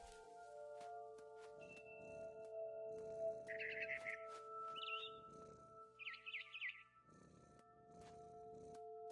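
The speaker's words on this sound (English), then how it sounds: "And then I heard cat noises." Soft cat noises, a low purring with faint chirpy calls, sit faintly under a steady electronic hum in a quiet game scene.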